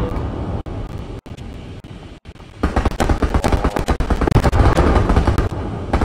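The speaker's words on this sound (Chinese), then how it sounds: "这边大炮了" Artillery and gunfire in the World War II shooter video game Hell Let Loose, with sparse heavy thuds at first, then a dense, continuous rumble of loud blasts and shooting.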